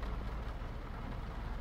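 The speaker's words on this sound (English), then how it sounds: "I have got a rain effect on." Rain in Euro Truck Simulator 2 makes a steady, soft wash of falling drops over a low rumble from the truck, even and continuous with no speech.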